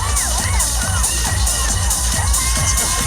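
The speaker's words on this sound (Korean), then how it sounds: "여러분 재한님께 뜨거운 박수 감사합니다. 부탁드립니다." Festival audience cheering and shouting for a guest singer at an outdoor community festival, a dense, continuous crowd roar with whoops and excited voices throughout.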